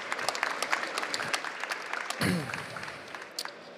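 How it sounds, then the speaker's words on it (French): A conference audience applauds a panel on circular economy in building, a dense burst of clapping that swells briefly before thinning out, with some brief talk near the end. "Merci, on les applaudit."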